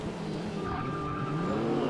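A racing car engine drones and revs steadily in the video game TOCA Race Driver 2, a continuous mid-pitched motor hum with a rising whine, no voices.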